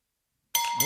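A bell struck once on a sports talk radio show covering the NBA playoffs, a bright ringing tone that starts abruptly after silence and sustains with a second strike near the end.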